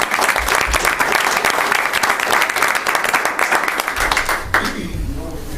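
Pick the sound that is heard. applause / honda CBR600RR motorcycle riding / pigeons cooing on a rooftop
applause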